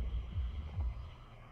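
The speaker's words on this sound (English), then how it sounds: "All right, so I got the engine warming up now as we speak." A car engine idles after a cold start, a low steady throbbing rumble with a soft pulsing beat, fairly quiet and continuous with no talk over it.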